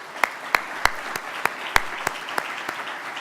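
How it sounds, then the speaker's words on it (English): At a New York conference presentation, an audience claps in a sparse, evenly spaced rhythm, sharp individual hand claps close to the microphone over a low room hum. "So I want to give them a round of applause."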